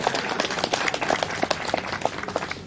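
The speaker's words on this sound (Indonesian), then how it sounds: "Tepuk tangan" A small group claps by hand during a customary land oath ceremony of the Moi people, with uneven, distinct individual claps over a few seconds at moderate loudness.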